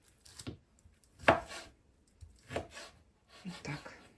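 A knife chops boiled meat finely on a board for Poltava cabbage soup, four separate firm thuds spaced about a second apart with quiet gaps between, close and fairly loud.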